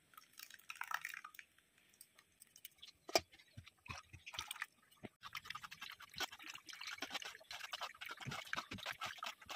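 Raw mango paste pressed through a sieve gives faint, scattered wet drips and soft squelching taps, irregular and close, with short scraping bursts.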